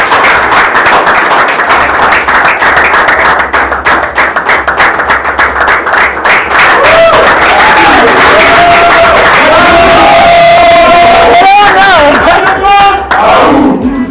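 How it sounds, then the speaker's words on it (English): Applause and cheering for a contestant at a Mr. Universe Nigeria pageant, loud crowd clapping mixed with shouts and chatter, a voice calling out over the noise toward the end. "A round of applause for Cass."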